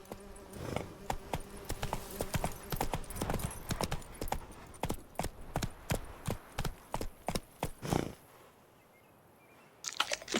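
Roach the horse's hooves clop in Witcher 3, a brisk, even clip-clop of steps close by that runs for about eight seconds, then stops before a faint restart at the very end.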